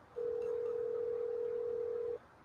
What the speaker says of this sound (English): If Taj pick up his phone